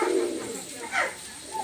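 A red-eyed, blue-tailed pigeon from a top-quality breeding pair coos in two or three short throaty bursts, close and fairly loud over a soft background hiss.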